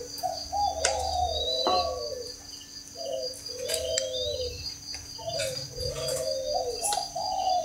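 Young spotted dove chicks coo softly in repeated short phrases over steady background hiss and faint insect chirps, with no voices.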